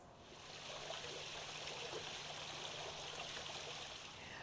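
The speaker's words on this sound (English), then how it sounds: "You can even hear the waterfall." A small waterfall in a backyard garden splashes and trickles steadily, a soft, even rush of falling water heard alone and at low level.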